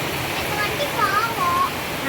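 Heavy rain pours down steadily in a broad, continuous wash, a dense hiss like falling water that fills the whole stretch without pause; a few faint high whistly tones drift over it.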